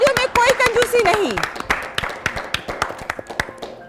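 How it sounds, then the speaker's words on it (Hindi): Scattered audience clapping at a sports quiz show, rising under a host's sung or drawn-out voice and then continuing as uneven, tapering claps after he stops. "जोरदार तालियां, तालियों में कोई कंजूसी नहीं।"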